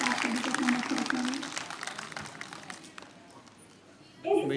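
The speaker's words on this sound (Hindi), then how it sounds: "एक बार हमारे अतिथियों के लिए जोरदार तालियां होंगी" An audience at a youth theatre workshop closing ceremony breaks into scattered applause for the guests, a dense patter of clapping that is strongest early and thins out, with a voice over a microphone briefly heard at the end.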